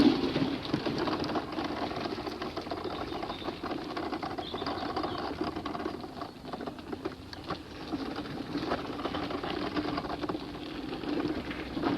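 Steady traffic from a main road beside a garden forms a constant low rumble and hiss for the full stretch, moderately faint in the background with occasional small clicks and bird-like chirps.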